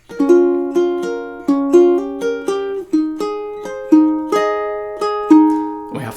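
Measures 17 and 18 of a song on ukulele: a dozen or so picked notes and light strums in a steady, gentle melody, close and clean with no voices, each tone ringing out before the next.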